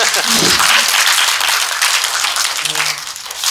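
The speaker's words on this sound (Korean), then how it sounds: "그 장면 빼면 안 된다 하시면 박수 좀 쳐주세요" Audience at a Korean film talk event with a director and actor claps in a dense, loud burst that continues throughout, with faint voices beneath and a slight easing near the end.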